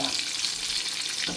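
Sukhiyan, sweet dumplings, frying in hot oil, giving a dense continuous hiss and bubbling up close, with a faint scrape of stirring near the end.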